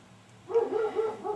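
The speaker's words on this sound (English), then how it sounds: "my dog is outside kind of barking at something" A dog barks and yips a few times in the distance, muffled as if outdoors, over a low steady background hum.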